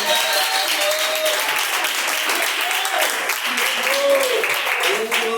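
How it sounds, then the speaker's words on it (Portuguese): An evangelical church congregation claps steadily in praise during a live worship service, continuous rapid clapping under a preacher's voice speaking over it. "Quem bate palmas e glorifica o nome de Jesus"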